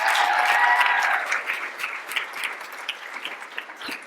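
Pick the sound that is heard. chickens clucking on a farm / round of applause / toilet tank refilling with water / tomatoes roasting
round of applause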